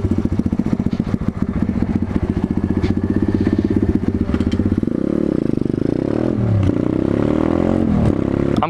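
A pit bike motorcycle engine revs loudly up close, rapid firing pulses climbing and falling through several throttle blips, then settling into a smoother sustained drone with further revs near the end.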